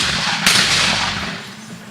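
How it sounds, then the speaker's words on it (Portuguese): A shotgun blast rings out at a skeet shooting final, one sharp loud report followed by a decaying echo over steady outdoor background noise. "Vendrusco tá atirando, é isso?"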